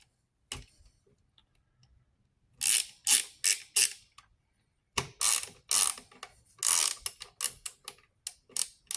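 A Craftsman V Series ratchet clicks in close-up, with a single click followed by several short bursts of quick pawl ticking separated by brief pauses.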